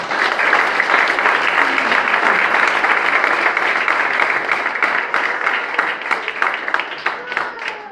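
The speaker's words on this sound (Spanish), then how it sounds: "¿Cuántos dicen amén y le dan un fuerte aplauso al Señor?" A church congregation breaks into loud, sustained applause that fills the room at a steady level, with individual claps becoming more distinct as it gradually thins toward the end.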